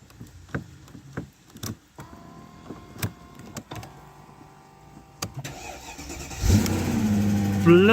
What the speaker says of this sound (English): it's just started a 5 litre V8 from absolutely dead